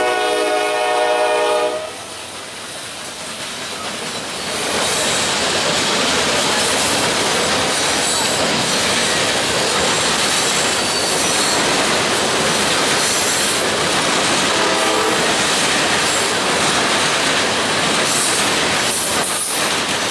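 An eastbound freight train passes on the nearest track, loud and close: a steady, dense roar of rolling cars and wheels with some squealing, after a brief horn blast at the start, continuing unbroken throughout.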